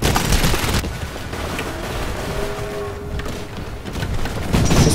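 Gunfire in the video game Titanfall crackles in dense bursts, loudest at the start and end with a quieter stretch of distant shots and rumbling booms between.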